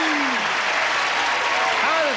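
Studio audience applause from a 1983 Match Game–Hollywood Squares Hour television game show, a steady, dense wash of clapping throughout while a host talks over it.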